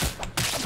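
Fortnite gunfire in a brief burst of rapid shots that crack close and loud during a 50 vs 50 match, with no voices over it.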